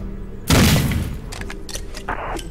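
Grenade blast in a military squad shooter game, a loud sudden boom erupting after a quiet start, followed by a decaying rumble and scattered gunfire-like cracks.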